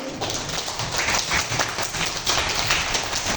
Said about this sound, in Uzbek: Hamma o'ziga bir qarsak chalsin-chi.